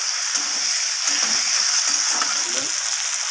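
Onion and tomato frying in oil in a pan, a steady close sizzle with soft stirring scrapes throughout.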